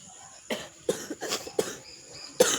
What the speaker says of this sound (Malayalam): നിനക്ക് ചുമയാണോ